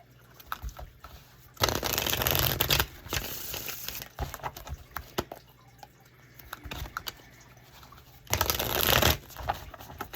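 Cards being riffled and bridged in two loud bursts, with quieter shuffling, tapping and handling of the deck in between.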